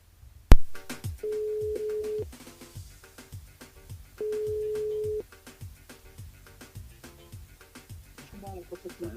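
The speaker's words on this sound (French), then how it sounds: "On nous appelle Ludovic sur le standard du côté du jeu séjour par SMS au 80-90" A telephone rings on a radio call-in line, giving two long, steady electronic tones about a second apart. Rhythmic music plays underneath, with a sharp click at the start.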